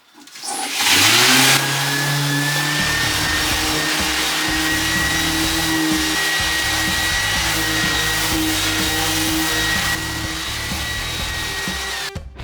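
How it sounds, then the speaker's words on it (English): A power sander working the corners of a wooden beehive-style compost bin, with a loud, steady motor whine that starts abruptly and holds constant, and brief shifts in load as it presses against the wood. "I'm going to sand off the corners."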